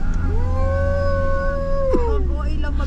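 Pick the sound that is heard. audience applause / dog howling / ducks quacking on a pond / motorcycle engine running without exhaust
dog howling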